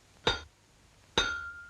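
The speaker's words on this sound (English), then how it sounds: "something as simple as hammering a nail into a wall" A hammer striking a nail into a wall, two sharp metallic strikes about a second apart, the second ringing on with a sustained clear tone.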